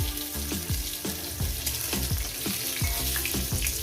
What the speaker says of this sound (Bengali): দিয়ে দিলাম বেগুনগুলো আমি ভেজে নেব এক এক করে ভেজে তুলে নেব